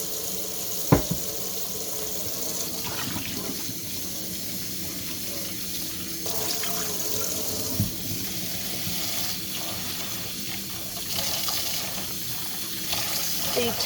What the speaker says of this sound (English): And get some warm water going.